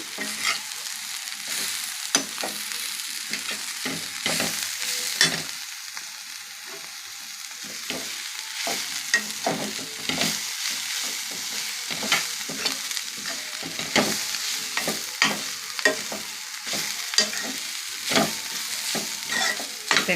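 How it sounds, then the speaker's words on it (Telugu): Close, busy sizzling of cabbage in a frying pan with repeated scraping strokes of a spatula stirring it, irregular rhythm, running for a long stretch without talk. "కొంచెంసేపు మగ్గనిద్దాం ఒకసారి తిప్పుదాము"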